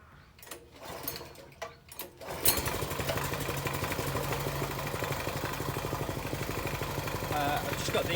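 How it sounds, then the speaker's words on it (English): A cement mixer engine drives a homemade rotary trommel sieve built from an old oil drum. It starts with a few sputters, then settles into a fast, steady chugging idle at low revs, loud and close. "I've just got the engine running on tick over, not very fast at all"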